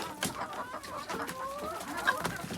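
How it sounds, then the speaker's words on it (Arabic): Backyard chickens kept for eggs cluck and chirp in short, overlapping calls, fairly near and steady throughout, with no talk. "انا مطلعه الفراخ بتاعتي تتشمس شويه"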